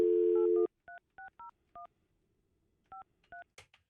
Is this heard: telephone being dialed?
yes